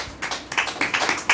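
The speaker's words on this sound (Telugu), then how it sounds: "పట్టండి చప్పట్లు" Congregation clapping at a cottage prayer meeting, a series of quick, uneven bursts of hand claps close by, with no talk over them.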